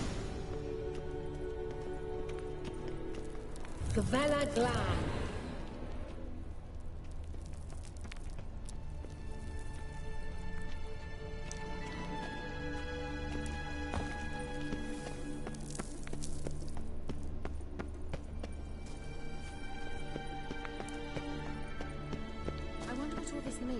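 A horse in The Witcher 3 pounds along at a gallop with rhythmic hoofbeats and a loud neigh early on, set against game music and ambience, with a brief spoken line.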